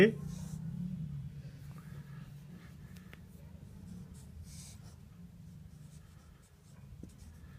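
Pen writing letters on paper during a lesson, a close, steady scratchy stroking that runs continuously with small pauses, over a low room hum.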